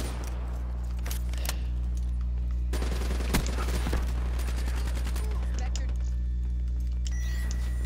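Rapid gunfire from Black Ops 3 multiplayer, bursts of shots over a constant low game hum, with a louder cluster of shots in the middle of the stretch.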